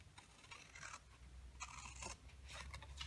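Scissors snip notches into cardstock for a small 2x2 gingerbread treat box, making quick crisp cutting bursts in a repeating rhythm of short cuts with brief pauses, close and clear.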